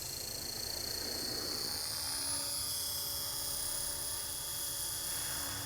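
A small electric RC helicopter whines steadily with a high, buzzing rotor and motor drone, hovering about 10 feet up in light wind, fairly close and continuous throughout, with no voices.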